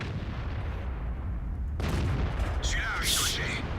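A 90mm tank gun round glances off armor in World of Tanks, a sudden loud broadband crack about halfway through, followed by a ringing metallic ricochet over steady engine rumble.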